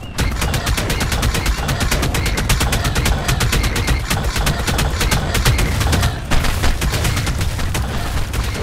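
Rapid-fire shooting from a creature's ranged attack in the game Ark Fjordur, a dense, loud stream of evenly spaced shots that runs continuously, with a brief dip before carrying on.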